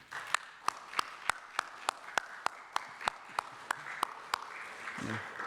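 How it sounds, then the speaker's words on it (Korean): A church congregation claps during a worship service, giving a steady run of sharp, evenly spaced claps that stay fairly quiet and continue for several seconds. "크게 한번 박수하겠습니다"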